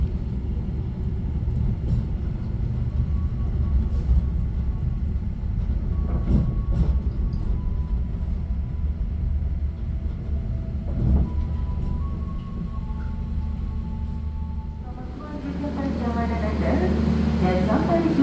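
Fajar Utama Solo executive passenger train pulling into Wates station, a steady heavy rumble with rail clatter and drawn-out metallic squeals, growing louder and busier near the end, with voices present.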